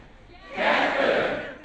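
A crowd of 800 in Fehérvár chanting the lines of the poem A vén cigány together, led by an actor. A loud, massed roar of voices swells in and holds for about a second before easing off.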